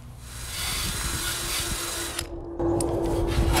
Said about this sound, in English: you can see what that Ryobi does with the wire brush adapter on there. Cleans it up real nice down to that bare metal